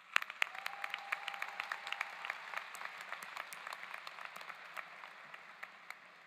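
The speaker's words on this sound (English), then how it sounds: "Let's give our students another round of applause." Audience applauding students at a Black/Pan-African graduation ceremony, a sustained round of scattered claps from a moderately distant crowd that slowly thins out.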